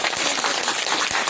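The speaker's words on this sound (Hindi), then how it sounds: "बजाओ ताली।" An audience at a Dogri wedding gathering claps during a spoken sermon, giving a dense, steady wash of many hands clapping at once with no voices over it.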